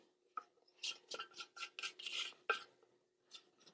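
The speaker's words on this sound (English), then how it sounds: "we'll give that another scrape down with our spatula" A spatula scrapes dry gluten-free ingredients around a mixing bowl in a series of short, close raspy strokes, each a quick scratchy burst with brief pauses, no talking.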